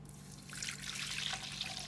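Warm water is poured into a large bowl holding yeast for vegan bread, a soft, steady trickle that swells slightly after the first moment and then stays even and close.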